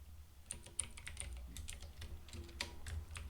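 Quiet typing on a computer keyboard while entering a comment in C code: irregular light key clicks in short bursts over a low background hum, fairly close and with no voices.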